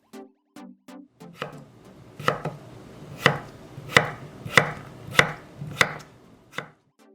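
A knife cuts potatoes into quarter pieces about 0.5 cm thick on a cutting board: a few light taps, then a steady run of crisp, close chops roughly every half second, with no talking.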